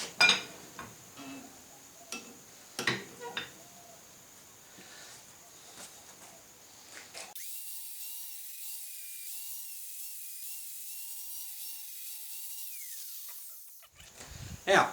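A wooden hammer handle being sanded with 40-grit abrasive, heard as short, uneven scraping and rasping strokes in the first half, then a steady high-pitched whine from a powered sander that cuts off near the end.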